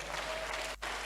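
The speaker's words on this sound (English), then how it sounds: "Please clap for him." An audience claps in a brief, dense burst for about a second, fairly faint, with a momentary dip near the end.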